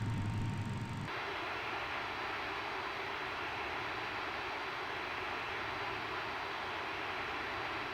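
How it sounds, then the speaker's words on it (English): An American Airlines jet airliner taking off from Dallas-Fort Worth at night, its engines producing a steady, loud, sustained roar that holds evenly from start to finish. "American 1420 takes off from Dallas-Fort Worth"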